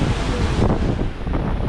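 A rushing mountain waterfall stream at a water crossing near Koksar, a loud, close, continuous roar of churning water mixed with gusty wind buffeting the microphone, with no talking.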